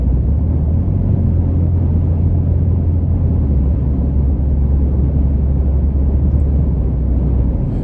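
A 2021+ Ford F-150 truck cruises with a steady, loud low-frequency road and engine drone, unchanging and without voices.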